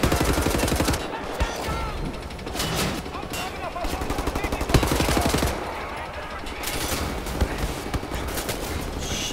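Sustained gunfire in the Wolfenstein: The New Order video game, rapid automatic bursts mixed with heavier shots that run almost continuously for the whole stretch, loud and dense.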